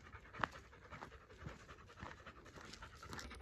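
Bella the dog pants quickly and steadily close by on a forest walk, a soft rhythmic breathing with faint rustling and footsteps around it.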